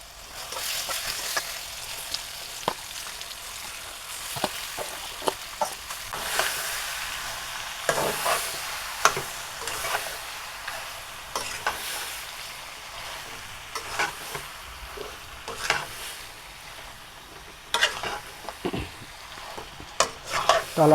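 Olives for a pickle sizzle and fry in a pan while a spoon stirs and scrapes them with repeated clattering strokes, steady and close, with no talking.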